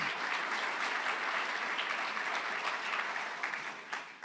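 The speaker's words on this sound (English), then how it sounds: "Can we give the panel another round of applause," Steady audience applause for the panel at the Cayman 2035 event, many hands clapping at an even, moderate level, then thinning into scattered claps over the last second.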